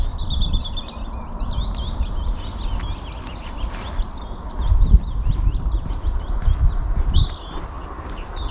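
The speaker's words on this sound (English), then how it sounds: "multiple birds' morning song, as we can hear." Many birds chirp and trill together in a lively dawn chorus in mossy woodland on Black Loch Hill, a bit distant, over low rumbling outdoor noise and footsteps.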